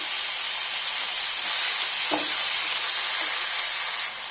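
Curry leaves and spices frying in hot oil for a yogurt tempering give a steady, loud hiss and sizzle that holds for the whole stretch, with one brief dull knock partway through.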